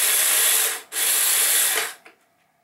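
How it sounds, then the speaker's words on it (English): A DeWalt gyroscopic power screwdriver whirs in two close, loud bursts as it removes screws from a 1976 Bally pinball machine, with a brief pause between the bursts before it winds down to quiet. "I bought one of those DeWalt gyroscopic screwdrivers."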